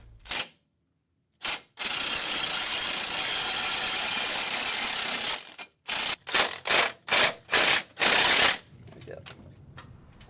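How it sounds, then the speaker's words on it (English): Loud broadband grinding of a drill boring a half-inch hole into concrete with a vacuum-attached hollow bit, one long sustained run followed by several short bursts, up close with no talking. "we're going to drill a 1/2-inch hole with a hollow bit attached to a vacuum for dust control"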